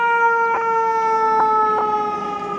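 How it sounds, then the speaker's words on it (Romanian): A fire truck siren wails in Harlem, New York, loud and close, holding a steady multi-tone howl with a few short bursts of added noise over street hum. "Ce constat cu stupoare e că în Harlem mașinile sunt mai nașpa de pompieri"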